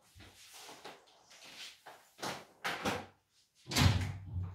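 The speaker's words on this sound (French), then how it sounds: "je vais ouvrir la porte" A door is handled in a quiet room: soft clicks and shuffles, then a latch and a louder swing and thump near the end.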